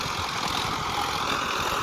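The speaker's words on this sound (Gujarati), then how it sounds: "ટ્રેક્ટર છે સોનાલિકા" Sonalika 750 tractor pulling a Lancer rotavator through a farm field in Gujarat, its engine a steady, moderately loud droning rumble with a churning texture and no voices.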